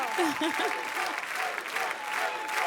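Studio audience applause on a French televised singing contest, steady dense clapping that fills the room at even loudness, with faint cheers mixed in and no talk over it.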